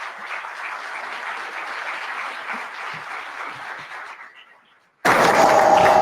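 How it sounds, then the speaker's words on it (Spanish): Conference audience applause, a steady crowd clapping that fades out into silence before a sudden loud burst of sound cuts in at the end. "Con este fuerte aplauso"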